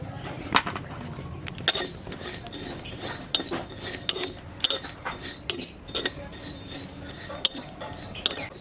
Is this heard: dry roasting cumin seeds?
yes